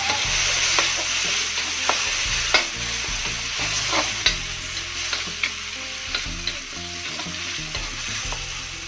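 A constant loud sizzle of frying shallots and blended spice paste, punctuated by repeated scraping knocks of a spatula stirring in the pan.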